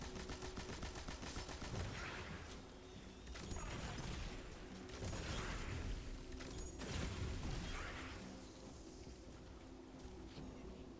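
Very faint, distant bursts of sustained machine gun fire in Destiny 2 swell and fade over a constant low game background, with no talk.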